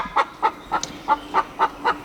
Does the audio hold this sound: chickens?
yes